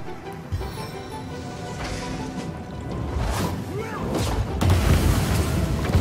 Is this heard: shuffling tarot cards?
no